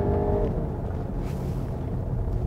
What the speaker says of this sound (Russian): Давайте для этого включим режим спорт и попробуем ее разогнать с нуля.